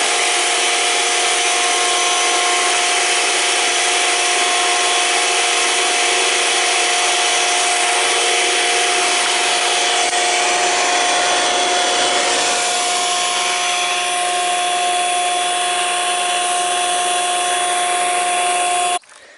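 Saw resawing a rough sawn wooden board, a loud continuous whine with a steady motor hum and rasping cut that eases near the end before stopping abruptly.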